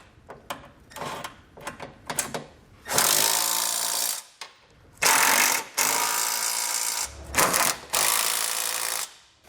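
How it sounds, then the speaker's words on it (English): A power socket tool snugging down base plate bolts on a 2018 Jeep Grand Cherokee, short loud whirring bursts of several seconds each, separated by pauses and quick clicks. "we can come back with a socket and snug it all down"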